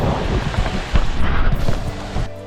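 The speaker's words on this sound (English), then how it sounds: "This is the tallest waterfall in Bohol, 71 meters." Steady roar of Canumantad Falls, a 71-meter waterfall in Candijay, Bohol, heard up close as a loud continuous rushing wash with no voices.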